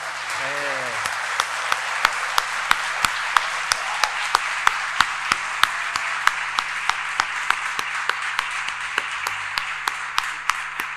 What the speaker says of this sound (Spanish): Juan, Alejandro y Gabriel, este es un aplauso para Dios y también el reconocimiento del pueblo de Dios de sus ministerios